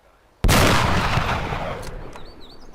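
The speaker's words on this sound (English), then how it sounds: "This weapon is a KSUK, and I think it's the loudest the loudest gun, really." A single KSUK rifle shot in Arma 2's DayZ mod, a sudden loud blast after a short quiet moment, followed by a long rolling echo that slowly fades, with faint chirping in the background.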